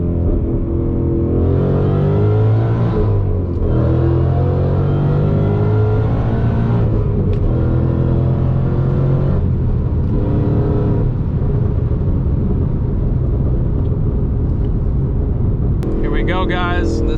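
Supercharged Ford Mustang at wide open throttle, a loud steady engine drone with rising harmonic tones through the gears, heard from inside the car with a person talking over it.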